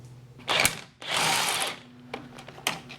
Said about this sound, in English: The only thing I don't like about this Craftsman impact is the spring on the end of it